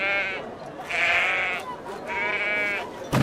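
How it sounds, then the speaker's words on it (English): Sheep bleat in the video game I Am Jesus Christ, in two long wavering calls, each about half a second to a second, separated by a short pause, loud and close over a steady game background. "The sheep are going wild."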